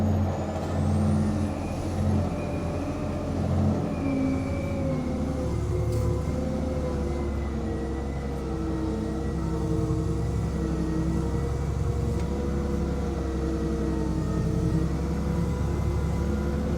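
Old heavy crawler-type tractor engine grunting under load while pushing debris, a continuous loud, deep diesel rumble with steady low harmonics that rise and fall slightly over many seconds, with faint higher whine above.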